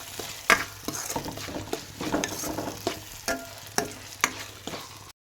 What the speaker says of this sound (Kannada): ಎಲ್ಲ ಚಲೋದಾಗಿ ಮಿಕ್ಸ್ ಮಾಡ್ಕೊಳ್ಳೋಣ ರೀ